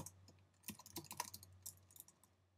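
Text being typed on a computer keyboard, a quiet run of quick, uneven key clicks and taps in bursts, close and faint with no voices.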